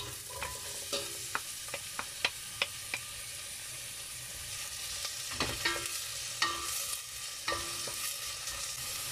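Onions fry in about half a glass of hot oil in a pan, a quiet steady sizzle with a few sharp spatula taps and scrapes, heard alone without speech.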